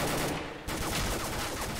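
Rapid gunfire from the game CS:GO, loud and close, a dense burst of shots that starts after a short pause and continues in quick succession.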